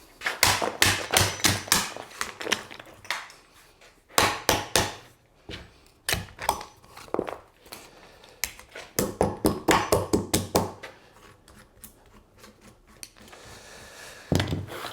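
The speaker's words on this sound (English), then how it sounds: "Get your favourite hammer off the wall and smash it out" Sharp metallic hammer blows on an oversized chisel come in quick bursts of several strikes, loud and close, with brief pauses between runs.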